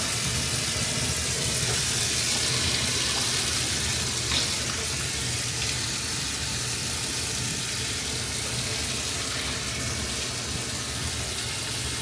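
Water runs steadily from an indoor tap as a loud, even broadband rush, with no talking over it for the whole stretch.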